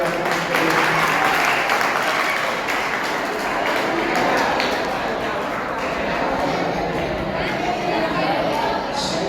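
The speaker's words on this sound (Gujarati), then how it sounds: "હાલો જોરદાર તાળીઓ આપણે" An audience at a memorial quiz contest gives sustained, dense applause that fills the room. Scattered chatter and voices carry beneath the clapping throughout.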